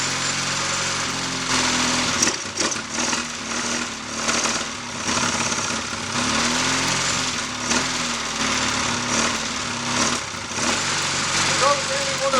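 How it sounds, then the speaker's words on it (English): A Triumph Bonneville motorcycle engine fast idles on choke with no throttle, a steady loud mechanical chatter that runs throughout with small uneven surges and a voice talking over it. "The chokes on these McCuneys, like the Able Mark IIs, can and should give you a fast idle with no throttle applied, just like we got here."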